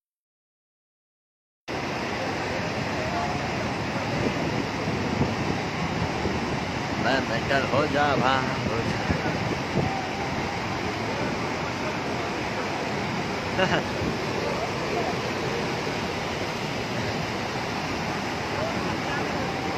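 Heavy water released from the Hemavathi dam, a loud continuous roar of rushing flow that fills the scene after a brief silence, with voices calling out briefly over it.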